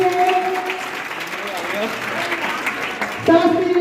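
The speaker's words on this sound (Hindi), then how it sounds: "तो चलिए जोरदार ताली बजाओ इस चमत्कार के लिए।" An audience at a school science show claps loudly and continuously, with a few brief tones over the applause.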